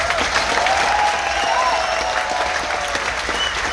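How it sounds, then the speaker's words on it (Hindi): Loud, steady applause from a crowd at a sales meeting, a dense wash of clapping with no break from start to finish. "जोरदार तालियां हम संजीव सर को दे"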